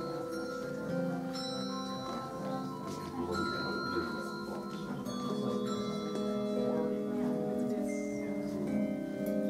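Handbells struck with mallets ring out in overlapping, sustained tones, several bells sounding at once with bright attacks throughout, faint voices underneath.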